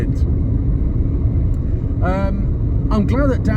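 A 1993 UK-spec Proton Saga Iswara 1.5 SE being driven, giving a steady low road and engine rumble inside the cabin while someone talks over it.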